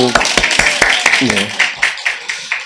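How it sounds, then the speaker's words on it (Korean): A church congregation claps in quick rhythmic strokes, loud and close, mixed with voices calling out and cheering during a sermon. "박수!"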